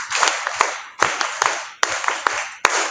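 A youth conference congregation claps again in lively, uneven bursts, many hands striking together in repeated swells, loud and near, with only faint crowd murmur beneath.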